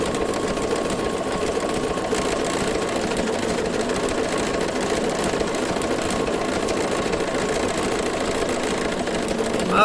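A Bernina sewing machine with a circular embroidery attachment stitches decorative circles, a steady close mechanical hum and rapid needle chatter running evenly without pause.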